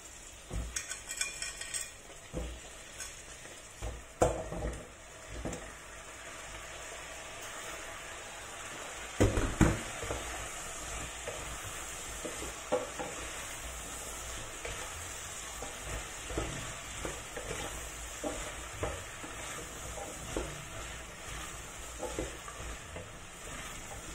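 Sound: pumpkin pieces sautéing and sizzling in a pot

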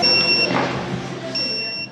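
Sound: beep signalling food ready in cafe kitchen

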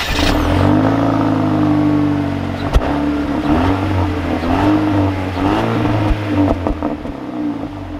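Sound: 2021 Jeep Renegade Trailhawk engine accelerating while driving

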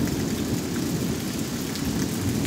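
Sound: heavy rain with thunder outside

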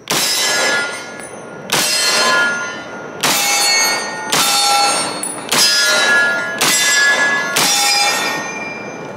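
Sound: M1 Garand rifle firing at steel targets

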